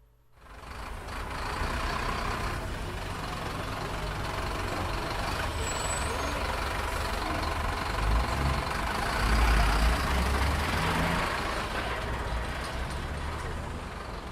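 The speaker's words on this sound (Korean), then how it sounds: "나는 2시 버스를 탔다." A bus engine idling and rumbling with air-brake sounds, steady and fairly loud in a hot-weather departure setting, with broadband noise throughout and a swell near the end.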